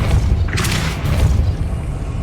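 A Depulso force-push spell cast in Hogwarts Legacy makes one deep, booming whoosh with a brief bright burst, set against a low rumbling game background.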